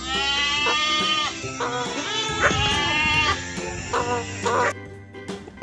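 A goat bleats several times in a row, wavering nasal cries close by, with short pauses between calls.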